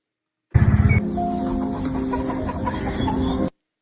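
Chickens cluck and murmur in a steady busy chorus, close and fairly loud, with a brief low rumbling burst at the start, lasting about three seconds before an abrupt cut.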